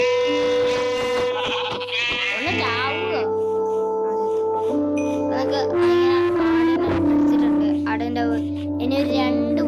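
Sheep bleating in the video game Minecraft, a few drawn-out wavering bleats heard over steady game background music, fairly close and clear.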